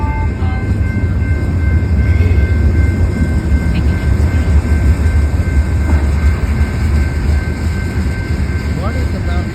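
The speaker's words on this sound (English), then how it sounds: "Sounded like the train was about to derail." A BNSF freight train rumbles past close by, a loud continuous roar of rolling wagons and rail noise throughout, with people talking faintly under it.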